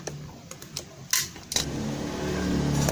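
A Yamaha Jupiter MX motorcycle with a slipping, underpowered clutch gives a few mechanical clicks, then its engine catches and settles into a steady, close running drone that rises slightly during the clutch test.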